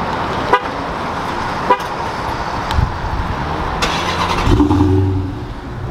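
Stock-exhaust 2007 Chrysler 300C with a large air intake, heard close with sharp clicks and a brief honk before the engine catches and starts, settling into a low rumble.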